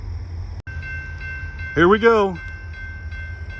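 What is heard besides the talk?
train passing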